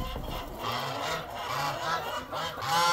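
Geese honk repeatedly on a village farmyard, a steady flock chorus of overlapping calls that carries across the whole stretch, fairly close and without talk over it.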